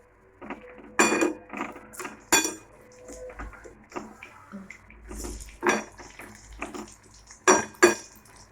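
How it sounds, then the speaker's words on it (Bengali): Fritters being flipped in a small frying pan, giving repeated metallic clinks and scrapes of utensil against the pan, with bursts of sizzling spread over several seconds, close and fairly loud. "আমরা বড়াগুলো উল্টে দেবো এবার।"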